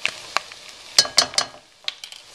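Flour being stirred into garlic cooking in a pan to form a roux, with a handful of sharp scraping strokes over a light sizzle, close and fairly quiet, no voices.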